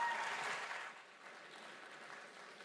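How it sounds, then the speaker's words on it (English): Faint, distant audience applause at a livestreamed hackathon opening ceremony, a soft wash of clapping that dips after a second and continues at a lower level. "Please give them a round of applause."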